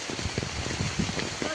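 Rain falls outdoors during a walk through dense growth, making a steady close hiss with patters on surfaces. Brief, indistinct voices sound over it.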